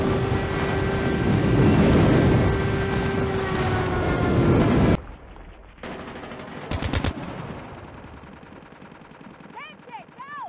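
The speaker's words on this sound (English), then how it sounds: "Enemy airstrike incoming." Airstrike explosions and heavy gunfire in the mobile shooter Call of Duty Mobile form a dense, loud, continuous barrage for about five seconds. The sound then cuts to a quieter scene with a brief burst of shots and faint chirping tones.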